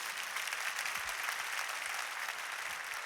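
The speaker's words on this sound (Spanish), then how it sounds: "Dale fuertes aplausos al Señor." Congregation applause during a Spanish-language church service, a steady wash of many hands clapping together, fairly distant and unchanging in level throughout, with no talking over it.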